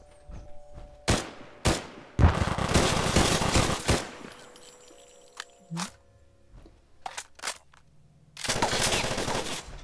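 Gunfire from a heavy automatic weapon, a modded gun weighing 83.8 pounds, in the Fallout 4 video game: loud sustained bursts of rapid shots, with short gaps and scattered single cracks between them.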